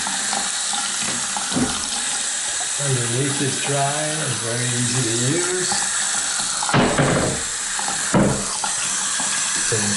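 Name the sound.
hot water running from a bathroom sink tap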